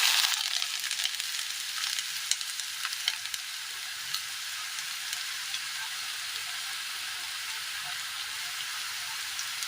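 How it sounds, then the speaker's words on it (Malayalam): Mustard seeds and wilted ginger sizzle steadily in hot oil in a Kerala kitchen, a bright continuous frying hiss with scattered small pops and crackles throughout, close and fairly loud with no talking. "ഇതിലേക്ക് കടുക് ഇട്ട് കൊടുക്കാം. ഇതിലേക്ക് വാട്ടി എടുത്ത ഇഞ്ചി ഇട്ട് കൊടുക്കാം."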